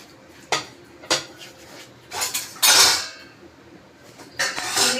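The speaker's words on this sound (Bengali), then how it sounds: "এগুলো আমি একটু উষ্ণ গরম জলে ভালো করে ধুয়ে নেব" Gourd leaves being washed in warm water in a kitchen: sharp clattering knocks and a rustling, splashing burst, separated by quiet gaps, close and fairly loud.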